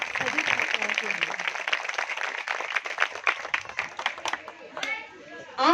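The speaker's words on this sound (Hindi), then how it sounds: "तो एक बार जोरदार तालियां आप सभी छात्राओं के लिए।" Applause from a crowd of female students at the closing of a seven-day NSS camp at a college, a dense steady clatter of many hands that fades near the end, with chatter mixed in.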